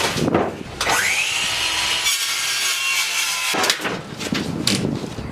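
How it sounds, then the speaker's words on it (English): A saw cuts a sheet of plywood in half during a van build teardown: loud rasping strokes lead into a sustained whining cut lasting about three seconds, then more rough scraping, close up and without talk. "Good to do is to saw it down and saw it in half."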